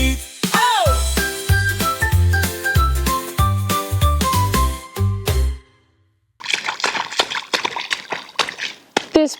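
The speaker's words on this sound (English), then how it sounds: "Do you like splashing in puddles or do you like playing in the mud?" Feet splash and slosh through a muddy puddle outdoors on a rainy day, a quick run of sharp wet splats following a stretch of bright music.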